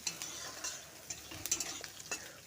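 Dried fish frying with turmeric and salt in a home kitchen, a light sizzle under a series of scraping stirs and small utensil clinks against the pan, fairly quiet and close.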